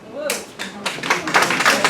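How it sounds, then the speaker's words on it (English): Applause from an audience at a town council meeting during public comment, a short burst of close clapping mixed with murmuring voices. "Would you please hold your applause and not have it during public comment?"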